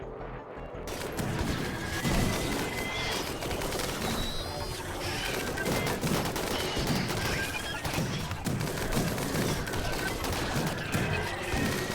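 Sustained dense gunfire from a firing squad in the RimWorld video game, a continuous loud crackle of shots over a chaotic battle din with some high whistling tones, no speech.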